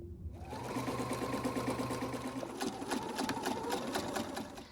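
A sewing machine stitches lining fabric with its right sides together, whirring with a fast, even mechanical rattle that runs continuously after a brief start, close-up and alone.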